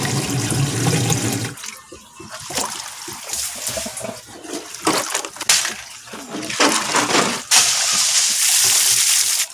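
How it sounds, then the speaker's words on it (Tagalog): Water draining from a DIY bucket pond filter, a loud rushing, gurgling flow that dips into sputtering trickles midway before surging back strongly, close up with no talking. "Na-set up ko na, pwede ko na i-drain yung tubig."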